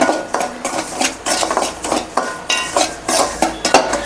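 Semolina being lightly roasted and stirred in a pan, a utensil scraping and clinking against the metal in repeated strokes, close and moderately loud, with no talk.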